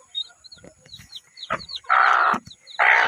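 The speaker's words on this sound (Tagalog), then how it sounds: "Naray ang mga piso mga ka-farmers oh." Baby chicks on a farm peep in short, high chirps close by, with a couple of louder, broader bursts of noise.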